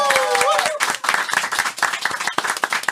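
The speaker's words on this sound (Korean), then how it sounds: "박수 한번 부탁드리겠습니다." A studio audience on a Korean talk show bursts into applause, brisk dense clapping from many hands that rises right after a short stretch of a voice and carries on steadily to the end.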